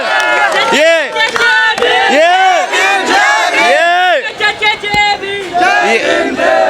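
Huge rally crowd of Dalit supporters in Delhi roars in rhythmic, chanted shouts, loud and close, rising and falling in repeated waves of massed voices.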